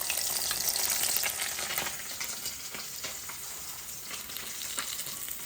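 Fish sizzles and crackles steadily in hot oil in a pan, a dense close-up frying hiss with no talking.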